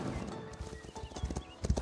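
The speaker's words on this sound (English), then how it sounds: "It's a very nice horse." A horse in the medieval city-building game Foundation, with rapid clip-clopping hooves and a short neigh, fairly close and clear over faint game ambience.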